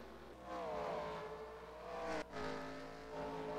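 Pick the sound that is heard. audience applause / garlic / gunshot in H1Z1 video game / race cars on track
race cars on track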